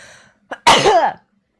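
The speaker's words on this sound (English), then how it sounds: "I'm going to sneeze again." A person who is ill sneezes once, loud and close, with a brief sharp intake of breath just before and a short trailing voiced breath after.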